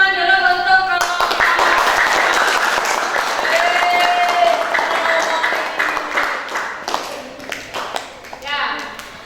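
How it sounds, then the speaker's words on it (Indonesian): A classroom of students applauds a student group after a problem-based learning presentation, the clapping loud and dense for most of the stretch before thinning into scattered claps, with talk and chatter mixed in. "Beri tepuk tangan dulu untuk kelompok"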